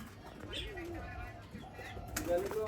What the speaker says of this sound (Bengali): অনেক পুরাতন কবুতর এটা